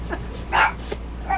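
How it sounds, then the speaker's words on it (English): A dog barking indoors, a few short yips and barks spaced apart, fairly close but moderate in loudness over a quiet background. "My Ollie is up, as you can hear. He's barking"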